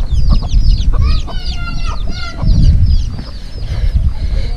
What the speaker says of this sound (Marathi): कोंबडी येईल मारायला नाही तर.